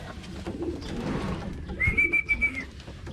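Pigeons in a loft coo softly in low, rolling notes over background shuffling, with one clear rising whistle-like call partway through, all close and moderately loud.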